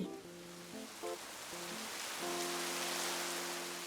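Steady rain patters as a storytelling sound effect, forming a continuous hiss that grows slightly louder, with soft musical tones playing over it.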